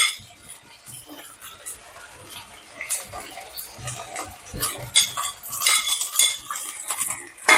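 Cauliflower tossed into a pan of sautéing masala for a poriyal and stirred with a metal spoon, light scraping and clinking scrapes repeating close by at a moderate, uneven pace.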